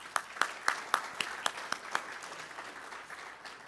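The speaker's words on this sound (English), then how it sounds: "Give yourselves a round of applause." Audience applause at a community civic association's 25th anniversary celebration, a burst of distinct sharp claps at first that thins into a softer, steadier patter as it fades.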